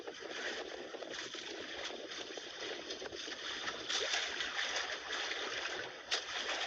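A strong water current rushes around a large boat in windy, rough weather, a constant loud wash of churning water with occasional splashes and no clear talk.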